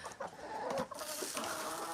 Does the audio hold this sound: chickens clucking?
yes